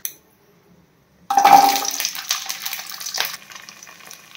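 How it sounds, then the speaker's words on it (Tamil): Mustard seeds, cumin and fenugreek hit hot oil after a brief quiet, bursting into a loud, crackling sizzle that gradually settles into steady spluttering and popping. "இந்த ஆயிலில் பாருங்கள், கடுகு, ஜீரகம், வெந்தயம் இதில் போட்டுக்கிறேன். பொரியட்டும்."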